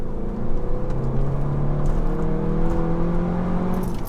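Stock SEAT Leon Cupra 290 accelerating hard under power, a smooth rising engine drone with tonal whine climbing steadily, heard from inside the car and loud throughout.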